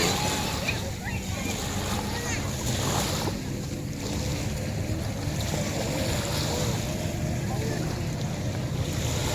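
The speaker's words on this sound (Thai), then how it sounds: "นี่คือทะเล" Sea waves washing onto a beach form a steady, continuous roar of surf mixed with gusty wind buffeting the microphone, with faint voices in the background.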